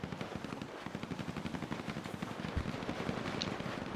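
Rapid automatic gunfire in a GTA roleplay game, a fast, steady stream of shots rattling continuously at a moderate distance, with one or two heavier bangs mixed in.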